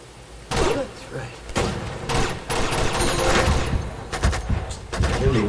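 Bursts of gunfire from the Uncharted 2: Among Thieves video game come in loud repeated volleys across the whole stretch, with a voice speaking over the shooting.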